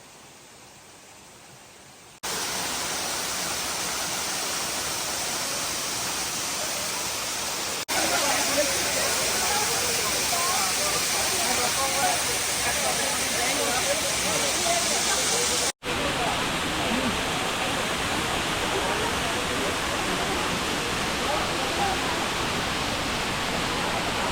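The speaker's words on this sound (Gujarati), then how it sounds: "સામે તમે જોઈ શકો છો કેટલા સરસ ધોધ પડે છે ઉપરથી" Bhigu waterfall in Dang district pours down with a loud, steady, broadband roar heard close by. The roar grows louder after a couple of seconds and is cut by a brief dropout near the end.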